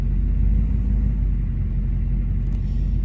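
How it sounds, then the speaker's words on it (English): A 1976 Plymouth Fury sport coupe's engine idles steadily, a deep continuous low rumble heard up close with no other sounds. "I leave it idling until it reaches the first mark on the temperature gauge"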